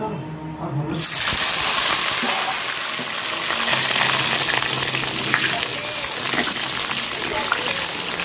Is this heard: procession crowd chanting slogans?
no